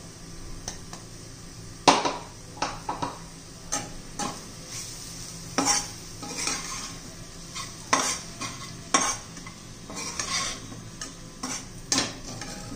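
Ground coconut, peanuts, ginger and garlic paste being stirred in hot oil for a sprouted moth bean curry: repeated sharp spatula scrapes and clacks against the pan over a low frying sizzle, irregular and close.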